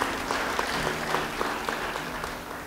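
Congregation applause during an Indonesian church sermon, steady clapping at moderate loudness with a low background hum, fading slightly toward the end.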